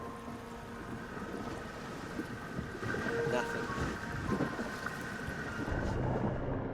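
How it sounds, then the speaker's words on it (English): A boat engine runs steadily on open water during a wait for a tagged blacktip shark, a low continuous drone with wind noise over it and a slight swell in loudness midway. "Just the sound of the engine."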